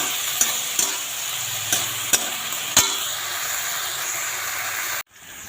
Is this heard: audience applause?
no